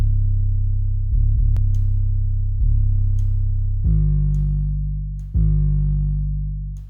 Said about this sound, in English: And now this is our normal 808. And there's the distortion that we have.